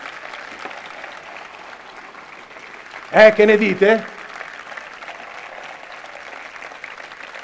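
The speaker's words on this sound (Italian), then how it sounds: "Sento nel vostro applauso in molti" Audience at an Italian comedy show breaks into a short, loud burst of applause lasting under a second, with someone talking over a quiet room before and after.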